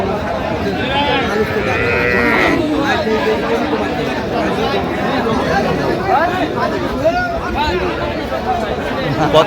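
Busy cattle market at Aftabganj hat where cows with calves are sold: a crowd of people talks and haggles constantly while high, bleating animal calls rise over the chatter.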